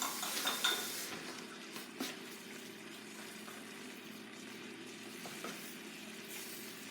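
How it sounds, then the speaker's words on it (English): Onions sauté in a pan for turkey burger gravy, a soft, low sizzle heard up close, with a few light clinks of a utensil against the pan early on and no talking. "I'm gonna let my onions get sauteed"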